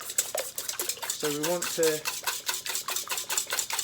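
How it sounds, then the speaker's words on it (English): Eggs are whisked in a bowl set over warm water in a bain-marie for a genoise sponge, giving a steady rapid scraping and clinking rhythm close by, with a voice talking briefly partway through. "we just want to warm our eggs whilst whisking"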